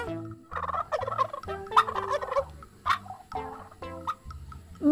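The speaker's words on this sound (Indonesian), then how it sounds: "Wow, di dalamnya ada ayam kalkun." A turkey gobbles repeatedly in quick, warbling bursts, close and clear, with a steady rhythmic backing underneath.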